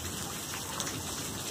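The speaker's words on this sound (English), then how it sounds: "It's a heavy rain." Heavy rain falling steadily on a backyard, a dense, even wash of drops and splashing water at constant loudness, with no voices.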